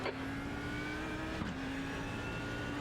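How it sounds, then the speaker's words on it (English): A race car approaches in iRacing during a night practice session at Spa, its engine a steady droning whine with a rising tone that holds close and loud, no voices over it. "Take care, there's a car approaching."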